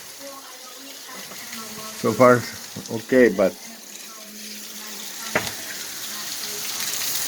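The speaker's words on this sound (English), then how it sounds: "yeah, that water really falls down" Heavy rainwater rushing and pouring down toward a building with a parking lot, a continuous hissing wash heard throughout, with a person briefly talking over it.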